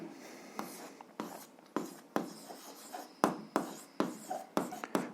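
A pen writes the solution of an algebra equation on paper in brisk, repeated strokes, each a sharp scratchy tap and short scrape, close and clear with no talking.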